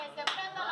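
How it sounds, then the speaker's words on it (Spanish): Brief burst of clapping at a child's birthday party with mariachi music and a pool celebration, a quick flurry of hand claps over a sustained musical tone in the background. "¡Bravo, aplauso!"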